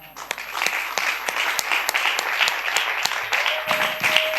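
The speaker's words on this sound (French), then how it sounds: "Ces acclamations, c'est une façon pour nous de te souhaiter bienvenue." Church congregation claps and cheers throughout, with sharp claps punctuating a dense wash of applause and voices and a faint sustained tone near the end.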